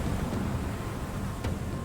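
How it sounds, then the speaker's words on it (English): Steady storm ambience in Myst V: End of Ages, a dense wash of wind and rain with a low rumble of thunder rolling underneath, constant and fairly loud throughout. "Storm ended."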